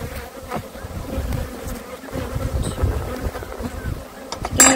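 Honeybees drone around an open hive during an inspection, a loud close buzz that swells and fades with wind noise on the microphone.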